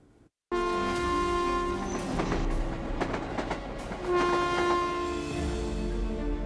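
A train moves through a busy Mumbai railway station, with a loud, steady rumble of rolling wagons, a sustained horn blast near the start and again later, and faint clacking throughout.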